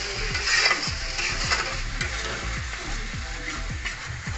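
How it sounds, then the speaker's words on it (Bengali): Tomato paste fries in hot spiced oil for a paneer masala, a steady sizzle broken by regular scraping stirs of a spoon in the pan, close up and with no talk. "যতক্ষণ টমেটোর পেস্ট কষে ভালো করে তেল না বেরোচ্ছে ততক্ষণ কষাতে থাকবো।"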